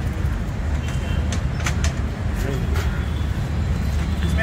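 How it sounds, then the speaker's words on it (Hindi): Bajaj NS 400Z motorcycle engine idling in neutral, a steady low rumble with passing traffic and brief sharp sounds around it, voices talking nearby. "एक बार आवाज़ सुना देते हैं इस गाड़ियों का, इन दोनों गाड़ियों का।"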